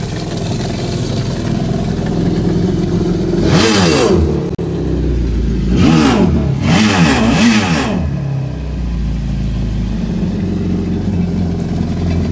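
A 2011 Yamaha VXR jet ski engine, fitted with a DIY intake and exhaust, idles loudly and up close, then revs in three sharp bursts, one single and then a quick pair, each dropping back to a steady, rumbling idle.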